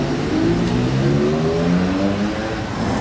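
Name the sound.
Porsche GT3 Touring and Spider RS convoy driving past in Monaco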